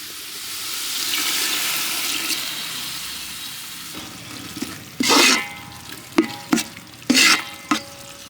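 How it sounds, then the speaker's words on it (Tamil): A steady pour or hiss of water into a pot of ground masala at first, then several sharp sizzling bursts and stirring scrapes from close by, while cooking country chicken gravy. "லைட்டாக தண்ணி ஊற்றிக்கலாம்."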